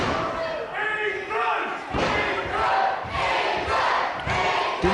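Loud, dense wrestling crowd noise at a live pro wrestling show, a patriotic audience roaring and cheering in sustained surges with thuds of bodies hitting the ring mat punctuating the din throughout.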